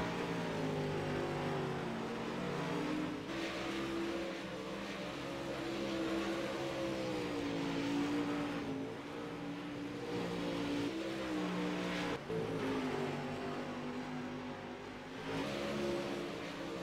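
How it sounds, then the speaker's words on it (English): Dirt track race cars running practice laps around a short oval, a continuous loud engine drone that rises and falls with acceleration and revving, steady throughout with no talk. "Looks like these boys are starting to get these cars dialed in right now."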